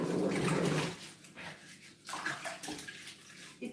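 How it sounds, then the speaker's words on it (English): Tap water runs and splashes while dishes are washed outdoors, a steady broadband rush that is loud at first and then settles into softer, uneven splashing with small clinks. "Let me wash my dishes."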